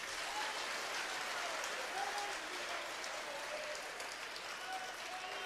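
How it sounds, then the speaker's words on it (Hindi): An audience at a Hindu religious darbar claps steadily, soft and somewhat distant applause that runs continuously for several seconds without a break. "अरे भाई ताली तो बजा दीजिए।"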